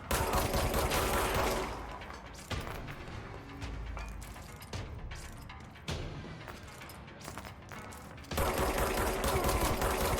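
Gunfire in the video game Control, bursts of rapid shots and cracking impacts that come in waves, loud at the start and end with quieter stretches between.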